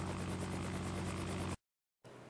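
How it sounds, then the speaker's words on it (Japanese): A sightseeing helicopter flies over a lily garden overlooking Lake Biwa, its steady rotor thrum loud and close. The drone cuts out abruptly halfway through, then resumes at the same level. "空から百合園を楽しむ遊覧ヘリコプター"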